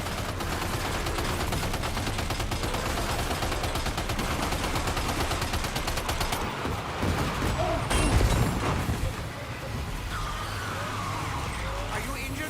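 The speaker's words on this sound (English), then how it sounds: "Opening fire now." Gunfire in the video game Death Stranding 2, a sustained rapid burst of shots over a rumbling game soundscape, followed by a heavy impact and quieter ambience.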